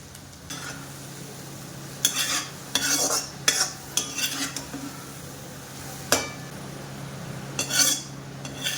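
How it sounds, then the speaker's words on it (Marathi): Garlic roasting in a pan for chivda, stirred with a metal spoon that scrapes and clinks against the pan in irregular bursts over a low sizzle. "लसण हा छानपैकी ब्राऊन असा भाजून घ्यायचा आहे."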